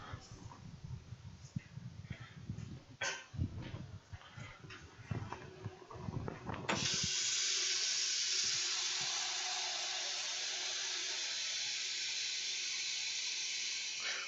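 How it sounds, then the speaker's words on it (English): Kitchen tap water gushes into a pot, a steady loud hiss starting about halfway after a few clattering knocks and handling sounds near the sink. "Let me get the water going."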